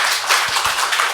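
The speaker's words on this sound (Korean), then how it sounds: "우리 하나님 박수 올려드립니다." A church congregation claps together during a Sunday service, a short, dense burst of many hands heard as a continuous wash of applause.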